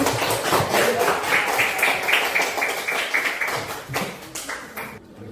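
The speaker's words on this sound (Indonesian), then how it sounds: "Kita kasih tepuk tangan buat kelompok satu dulu." Students in a junior high school classroom clap for the first group in a burst of quick, lively, close applause that thins out and fades over about five seconds.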